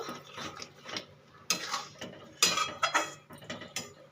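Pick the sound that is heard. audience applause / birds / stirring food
stirring food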